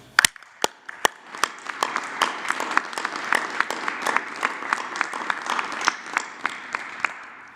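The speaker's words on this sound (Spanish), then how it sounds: "También un aplauso." An audience at a Mexican presidential press conference breaks into applause, a moderately dense run of clapping with several sharp, loud individual claps standing out, lasting several seconds without speech.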